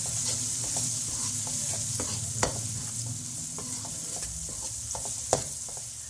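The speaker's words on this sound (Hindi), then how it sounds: "अब इन मसालों को करेंगे हल्का सा फ्राई।" Spices including turmeric sizzle steadily in a hot pan for an aloo matar chicken curry, with occasional scrapes and taps of a spoon stirring them.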